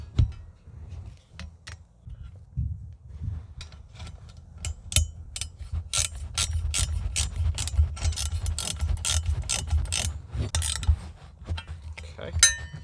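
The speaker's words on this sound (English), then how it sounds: "get your wrench, go ahead and start tightening." Ratcheting wrench tightening the bolts of a Quadratec dead pedal on a Jeep Gladiator, a rapid run of sharp metallic clicks that speeds up in the middle and tapers off, close and fairly quiet over a low hum.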